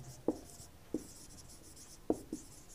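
Pen marks as an equation is handwritten in a lesson on solving linear equations by elimination: four brief, soft taps or strokes spaced apart in a quiet room.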